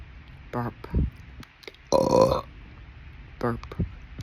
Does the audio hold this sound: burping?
yes